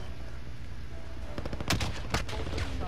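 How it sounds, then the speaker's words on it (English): Gunfire in Call of Duty Plunder: a burst of several sharp shots around the middle, near and fairly loud, over a constant hum of game ambience, with no talk. "the guy that was shooting you is now shooting at me"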